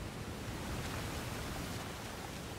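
Steady broadband rush of a waterfall in a video game exploration area, continuous and fairly loud with no voices or other sounds over it.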